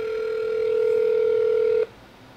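A telephone line tone holds steady and loud for nearly two seconds, then cuts off abruptly, leaving quiet room noise as the call goes through.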